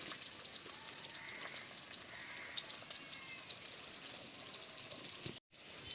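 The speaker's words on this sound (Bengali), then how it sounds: "এপাশে কড়াইতে দিয়ে দিচ্ছি পেঁয়াজ কুচি" Chopped onion frying in a kadai, a faint, steady crackling sizzle that runs throughout with a short drop near the end.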